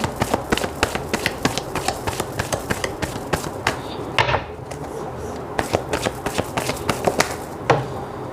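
Tarot cards being shuffled and handled, giving a steady run of close, crisp card taps and riffling flicks with a brief pause partway through.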